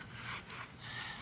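A plectrum is rubbed back and forth on 400-grit sandpaper glued to a flat melamine board, producing faint, close, soft scratching strokes with a brief pause in the middle.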